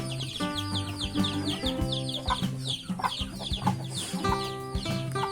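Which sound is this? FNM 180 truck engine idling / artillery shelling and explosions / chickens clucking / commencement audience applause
chickens clucking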